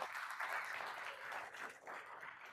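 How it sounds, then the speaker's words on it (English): Attendees at a live Rocket Pro TPO business event applaud the SOS underwriting team, a faint but continuous wash of many hands clapping at a distance. "Round of applause for our SOS team"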